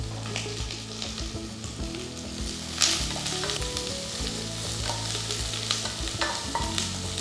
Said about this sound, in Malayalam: ചുവന്നുള്ളിയും സവോളയും കൂടെ ഒന്ന് സോട്ട് ചെയ്യുക.